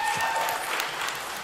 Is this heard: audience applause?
yes